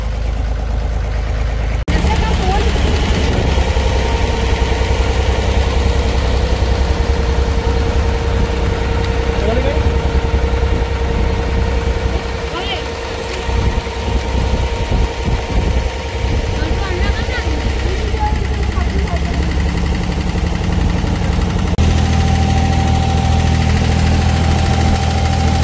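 A tourist boat engine drones steadily during a ride in Dubai, a constant mid-low hum with a shift in pitch partway through, while people talk over it.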